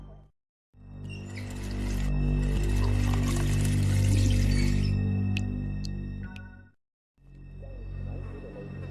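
Water poured in a kitchen during a tense scene in the video game The Wolf Among Us, a steady broadband rushing stream lasting several seconds, loud and close, starting and stopping abruptly, with faint clinks near the end.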